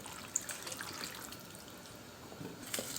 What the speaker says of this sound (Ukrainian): і вливаю воду.